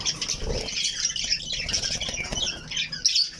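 Spangled Pearlback Hagoromo budgie parakeets chatter in a backyard aviary: faint, busy high chirps and squawks with soft wing flutters, continuous and fairly distant.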